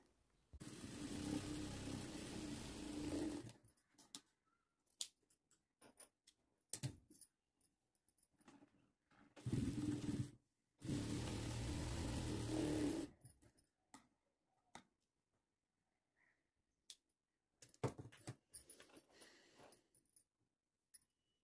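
A sewing machine stitches a lining blouse in several separate runs of fast, even mechanical whirring, two long and one short, broken by quiet pauses and soft handling clicks, with no voices.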